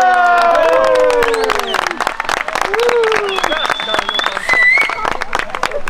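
Applause and cheering from a crowd at a Swedish midsummer pole raising, with scattered clapping, whoops and rising shouted voices all mixed together, loud and close throughout.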